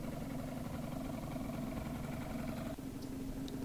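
Hyosung Sense scooter in bad shape with its right fairings off, engine running at a steady, quiet hum with a low rattle, one brief dip near the end and no talk.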